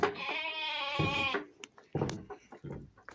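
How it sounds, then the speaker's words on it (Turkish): A lamb in a livestock pen lets out one long, wavering bleat up close, followed by quieter scuffling and knocking sounds. "Kuzumuz da meleyor."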